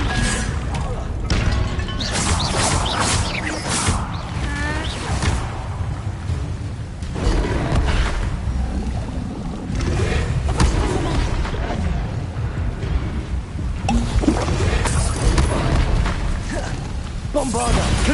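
Bombarda and Confringo spell blasts in Hogwarts Legacy go off as loud, repeated booming explosions and crashes, dense and continuous, with a voice occasionally heard among them.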